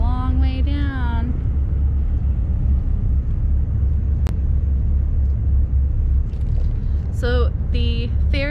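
A ferry pulling out of port at Ocracoke Island gives off a loud, steady low engine rumble that runs throughout, with a voice speaking over it at the start and again near the end.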